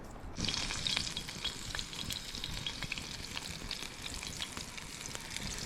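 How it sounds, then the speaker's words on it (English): Steady, dense sizzling of trout frying in hot coconut oil, with crackling pops throughout; close and continuous, no voices. "trout's frying up"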